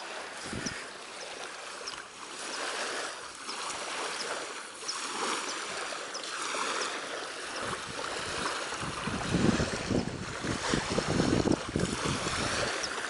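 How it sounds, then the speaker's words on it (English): Loud beach ambience with steady wind buffeting and the wash of surf breaking nearby, a continuous roar that swells stronger toward the end, with no voices. "The thing is, the beach is a little loud, but we will live with that."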